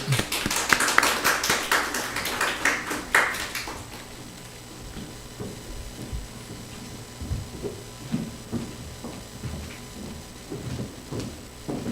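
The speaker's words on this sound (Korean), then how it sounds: "우리 박수 한번 하겠습니다" Church congregation applauding to welcome a deaconess forward to give testimony: a loud burst of many hands clapping for about four seconds, then dying away into scattered knocks and shuffling room noise.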